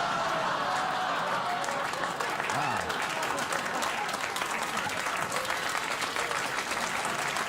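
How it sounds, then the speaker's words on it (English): A late-night television studio audience applauds, a dense continuous clatter of clapping and cheers that stays loud and even throughout, with some voices mixed in. "You applaud now"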